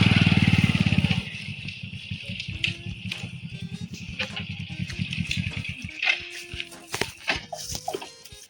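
A new motorcycle's engine idles and rumbles nearby, with uneven revving and clattering bursts, plus a brief dog bark.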